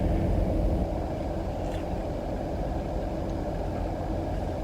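Inside a car, a low, steady rumble of engine and road noise holds throughout, fairly quiet, with no voices.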